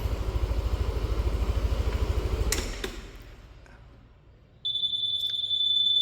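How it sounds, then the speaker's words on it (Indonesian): A Yamaha NMAX Neo scooter idles with a steady engine rumble, then cuts out, and a few seconds later a continuous high-pitched electronic alarm tone sounds close by, holding steady to the end. "ada peringatan semacam alarm."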